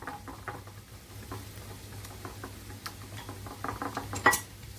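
A spoon stirs a yogurt marinade for Egyptian shawarma in a bowl, giving soft, steady scraping and light clinks with one sharper knock near the end, close and quiet, with no voices.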